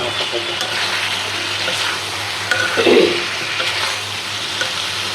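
Brinjal sizzles as it is sautéed in a pan for loitta fish bhuna, a continuous moderate frying hiss with a brief louder stir in the middle and a low steady hum underneath.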